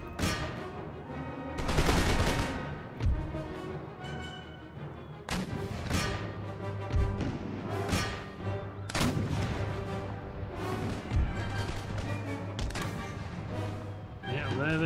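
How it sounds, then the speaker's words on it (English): Musket volleys and cannon fire in Empire Total War, a dense, continuous battle of sharp reports and booming blasts under a steady din of game ambience and music. "Now switch the cannons to shot."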